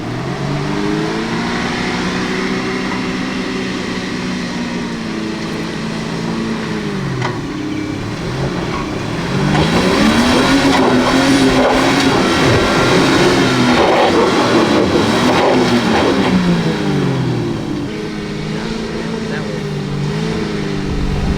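Car engine revving hard on an off-road track, rising and falling in pitch for over twenty seconds with a louder surge midway, close and sustained.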